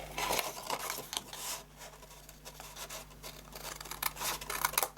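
Rough, scraping snips and rasping cuts repeat unevenly over several seconds, close by, as scissors cut paper or card for a handmade gift box.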